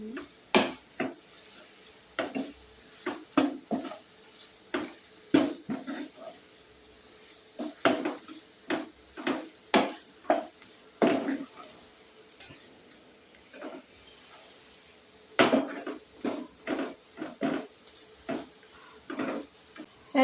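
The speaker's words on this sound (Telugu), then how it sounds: "దీంట్లోనే మసాలా పౌడర్ అయితే వేసుకుందాం బాగా మిక్స్ చేసుకున్నాం" Masala powder being mixed in a cooking pan, with a spoon clinking and scraping against the pan in irregular close strokes and short pauses over a low, quiet background.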